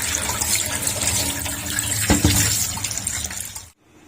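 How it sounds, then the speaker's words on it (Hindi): Tap water runs steadily over raw chicken pieces being washed in a kitchen before frying, a continuous close splashing rush that cuts off abruptly near the end. "वॉश अब हम कर लेंगे अच्छे से"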